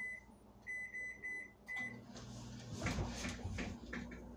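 A kitchen microwave oven beeps in a steady series of short tones, then its hum starts as a door or cupboard clatters nearby while a burger is being made.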